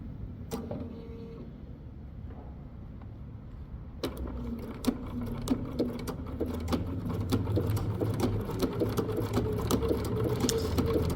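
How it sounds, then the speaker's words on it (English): A sewing machine runs a straight stitch along the edge of fabric for a Halloween treat bag, a steady close mechanical whir that starts faintly and grows louder and denser partway through, with no talking. "the idea here is to have the straight stitching happening off the edge"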